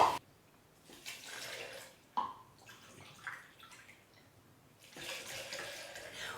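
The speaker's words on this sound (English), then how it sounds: "add 4 cups of filtered or bottled water to the blender as well" Filtered water pours into a blender already holding shredded, desiccated coconut, a steady splashing rush in two loud bursts separated by quieter trickling, near and with no voices.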